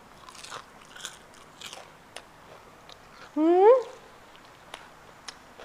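Crisp, crackly bites into fried salmon belly skin, a few short crunches spaced out and close up, with a brief animal-like squeal partway through.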